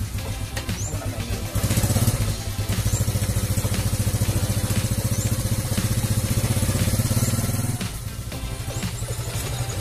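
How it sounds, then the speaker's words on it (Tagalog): A Kawasaki Fury 125 motorcycle engine idles while warming up before carburetor air-fuel mixture adjustment, a close, steady rhythmic putter with slight rises in revs. "Ngayon kailangan natin i-warm up muna yung motor"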